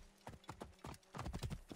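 Horse hooves clip-clopping in Assassin's Creed Origins, a quick uneven run of sharp close thuds that grows denser and louder toward the end, with faint game ambience behind.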